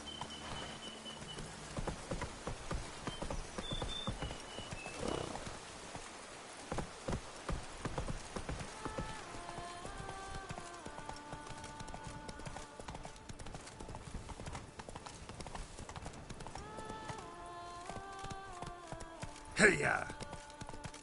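Rapid hoofbeats of Roach, a galloping horse in a video game, pound steadily throughout, mixed with game music tones and a brief burst of effects near the end.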